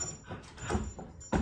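A puppy whimpering and yipping in short bursts while straining on a lead and pulling someone along, with scuffling and a sharp thump at the end.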